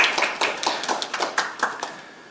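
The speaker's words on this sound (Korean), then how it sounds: "네. 박수." A small audience at a policy forum on taking Korean fashion global applauds briefly, with scattered, uneven claps from a handful of people that taper off over about two seconds, with no talking over them.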